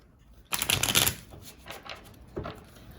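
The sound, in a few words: shuffling a deck of tarot cards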